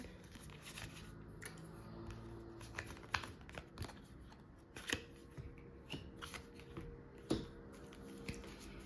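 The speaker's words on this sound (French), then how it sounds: "je vais poser les cartes et hop" Tarot cards being laid down and shuffled on a table, giving soft papery slaps and flicks in an irregular sequence, close and fairly quiet with no talking.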